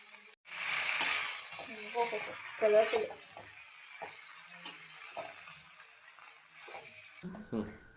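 Boiled pasta tossed into a frying pan at home, giving soft scraping stirs and a light sizzle under a nearby speaking voice, with a few clinks of utensil against the pan.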